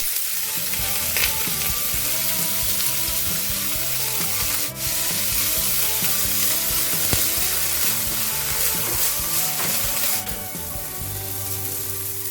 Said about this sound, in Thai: ใส่มะระลงไปค่ะ ผัดให้มะระสุกนะคะ